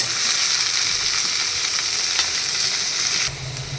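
Bitter gourd frying with chopped onions in a pan: a loud, steady broadband sizzle that runs unbroken, easing slightly in the final half second, with no talking.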